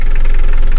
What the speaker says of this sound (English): Engine runs well.